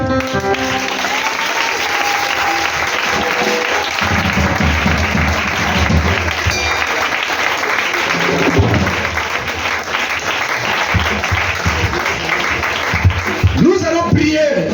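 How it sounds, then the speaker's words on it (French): A congregation applauds and cheers at an Easter prayer and celebration service, sustained loud clapping filling the room as voices call out over it. "Acclamons Jésus."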